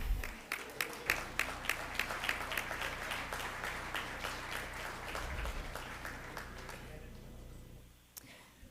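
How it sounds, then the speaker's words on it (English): Audience at a school district governing board meeting claps for itself, a run of scattered, distinct hand claps for about seven seconds that thins out and fades, leaving a quiet room with one last clap. "Clap for yourselves."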